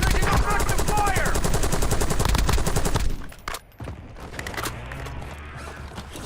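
Heavy bursts of automatic gunfire and enemy sniper shots crackle in Warzone, dense and loud for three seconds before thinning into scattered distant shots and muffled thuds, with faint talk underneath.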